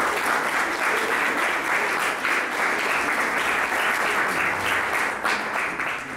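A school audience at a theatre-audience outreach event claps steadily after a story is told, a dense, even spell of applause lasting several seconds at moderate distance.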